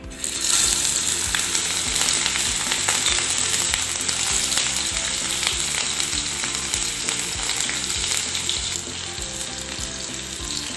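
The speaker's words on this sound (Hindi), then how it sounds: "हल्की आंच पे हम अपने कबाब फ्राई कर रहे हैं।" Mutton chapli kebabs fry in hot ghee over low heat, making a continuous dense sizzle close to the pan that holds steady for about ten seconds with no voices.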